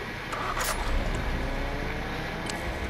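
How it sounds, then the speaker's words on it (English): A car in the Fortnite video game drives with a steady, close engine hum and road noise, a couple of brief higher squeaks breaking through the even drone. "Oh, car right here, Dick."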